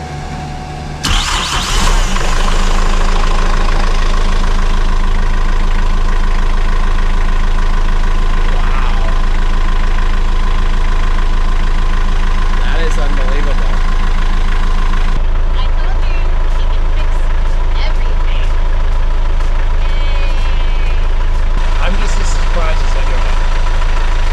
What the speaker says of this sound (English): So I've started and stopped the engine twice now.